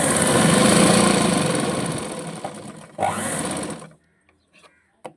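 A sewing machine stitches a joint on a boat-neck blouse, whirring loud and continuous for about four seconds before stopping, followed by a few faint clicks as the fabric is handled.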